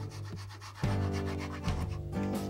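Stainless steel rasp with sharp, non-clogging teeth shaping the broken edge of a wooden armoire, giving steady close-up rubbing and scraping strokes that pause briefly between passes, with no talking.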